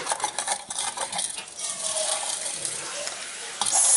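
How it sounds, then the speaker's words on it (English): A spoon stirs gelatin powder in a bowl for a Jello parfait, making a continuous gritty scraping and swishing at close range. "you want to stir your Jello powder until you don't hear that gritty sound anymore"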